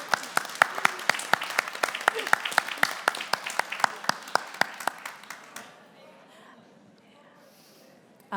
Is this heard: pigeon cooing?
no